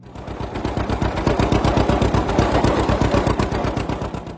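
A John Deere-style Model A tractor's 321 cubic inch two-cylinder engine runs loud and close, with a rapid, evenly spaced popping exhaust beat.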